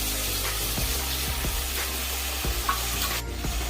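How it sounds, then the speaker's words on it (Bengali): Ginger, garlic and chilli paste hits hot oil in a pan and fries with a steady, close sizzle, broken by regular scraping knocks as it is stirred. "তো এবার এর মধ্যে আমি যে আদা, রসুন আর লঙ্কাটা পেস্ট করে রেখেছিলাম সেটা দিয়ে দিলাম।"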